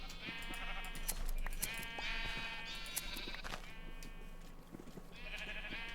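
Sheep in Minecraft bleating repeatedly, several overlapping wavering bleats close by over a faint background hum, with no talking.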